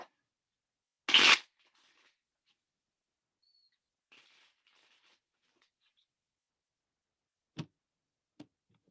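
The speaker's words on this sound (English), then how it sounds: "you saw me mix up these cards even different" Tarot cards riffle in one brief, loud burst of shuffling, followed by quiet soft handling of the deck and a couple of sharp taps as cards are set down.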